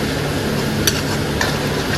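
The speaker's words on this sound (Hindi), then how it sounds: "तो गाइस अब जो प्याज की प्यूरी थी उसका कलर ऐसा हो गया है भुन के" Onion puree fries in a pan with a constant close sizzle, while a spoon stirs and scrapes the pan now and then with a couple of brief clicks.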